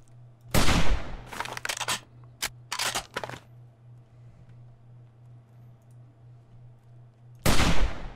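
Gunfire in the zombie survival game 7 Days to Die: a quick cluster of loud, sharp shots, a pause with a low steady hum, then one more blast.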